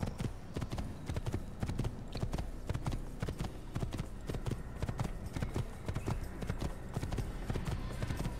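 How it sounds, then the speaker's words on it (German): Horse hooves clip-clop at a steady riding pace in an Assassin's Creed video game set on the road to Jerusalem, a continuous rhythmic clatter over a low background rumble with faint talk now and then. "So, schön aufs Pferdchen und ja, auf geht's."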